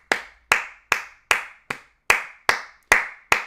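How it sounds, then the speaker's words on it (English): Hand claps ring out in a steady, even beat, about nine sharp claps spaced evenly with nothing else heard between them. "Everybody clap it up."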